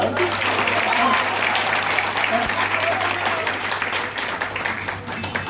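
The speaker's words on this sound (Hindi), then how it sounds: "तालियों से इसको स्वागत करिए" An audience at a Bihar Day college poetry reading applauds a just-recited poem, with sustained dense clapping over a low steady hum, fading slightly toward the end.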